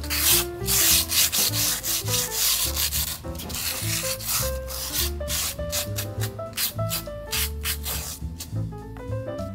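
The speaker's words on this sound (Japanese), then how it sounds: "釜詰め前にペーパーで擦って素地のバリを取ります。" Sandpaper rubs back and forth against a dried, unfired clay plate, removing burrs in repeated rasping strokes, close and steady, with no voices.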